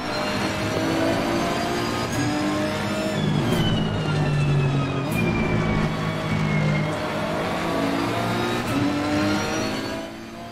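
Ferrari 488 GT race cars in the Assetto Corsa Competizione racing game roar loudly and continuously, engines revving and shifting through gears with rising and falling pitch as the cars duel closely.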